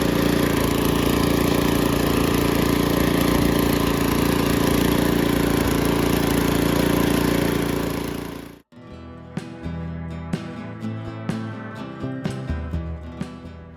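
A garden tiller churns up grass and weeds with a loud, steady engine drone for about eight seconds, then cuts out abruptly.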